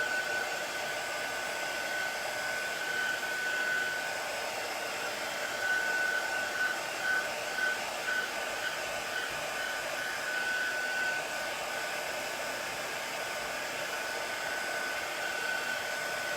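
Heat gun blowing continuously while drying chalk paste, a steady airy whir with a constant high whine, moderately close and alone throughout.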